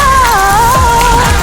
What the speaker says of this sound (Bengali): এরকম বৃষ্টি আমি কখনো দেখি নাই